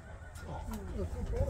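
A horse whinnies several times at close range as it approaches in a field, with a person talking quietly over the calls.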